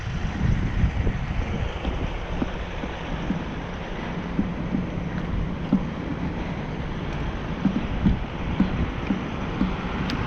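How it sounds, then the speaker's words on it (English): Strong gusty wind roars across an exposed outdoor spot beside a rail line, buffeting the microphone with a constant loud low rumble and occasional sharper gusts, and no voices are heard. "That's how windy it is."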